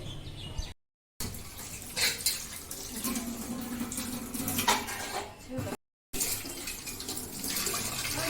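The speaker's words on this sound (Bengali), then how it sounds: "সব কাঁসার থালা বাসন মা নামিয়ে দিয়ে গেছে, সবগুলো মেজে নিচ্ছি" Bronze (kansa) plates and utensils being scrubbed under running water at a sink, with a steady tap stream, clinks of metal dishware and scrubbing, someone talking over it, two brief gaps.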